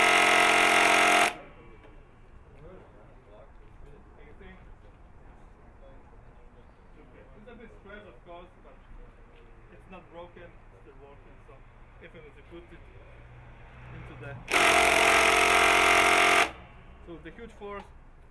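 Two loud bursts of an impact drill driving a Torx screw, one at the start and one near the end, with steady speech and background noise between them.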